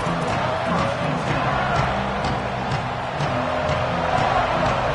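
A packed football stadium crowd roars in a dense, steady wall of cheering and shouting, loud and continuous without a break.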